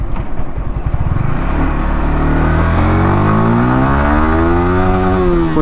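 A Yamaha R15M motorcycle accelerating hard in first gear, the engine note climbing steadily in pitch from a low rumble to a loud high rev, heard close and alone.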